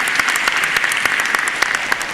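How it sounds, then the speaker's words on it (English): Lecture audience applauding, close and loud, dense clapping with individual sharp claps standing out, steady throughout with no talking. "Round of applause once again for Dr. Stanford."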